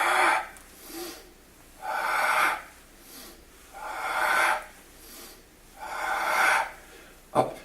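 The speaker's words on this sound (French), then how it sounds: "On souffle." During a circuit training workout a person exhales forcefully in long, audible breaths, five in a row at an even pace, close and alone, with a sharp short puff at the end.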